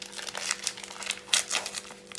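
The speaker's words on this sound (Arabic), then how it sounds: "انا غادي نضيف الكيس الثاني" Crinkling plastic of a flan powder packet being opened by hand in a home kitchen, a run of close, bright rustles and crackles with a few sharper bursts, no talking.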